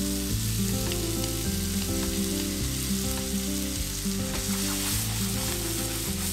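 Eggplant stir-fried with onion and miso sauce sizzles steadily in a pan, a dense close frying hiss running unbroken, with some steady tonal background music.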